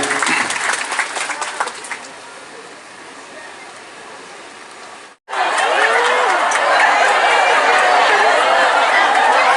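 Crowd applause at a student farewell ceremony in Semarang after a Pancasila recitation, loud dense clapping with chatter, dropping to a softer patter midway, a brief cut, then surging back full and sustained.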